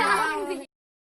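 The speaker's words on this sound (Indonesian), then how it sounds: "Kucing." A single drawn-out cat meow, close and fairly loud, cutting off abruptly into silence.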